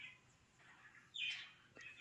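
A pet bird gives a few faint, high chirps at bedtime, a brief louder burst in the middle and another short call near the end, heard close in a quiet room.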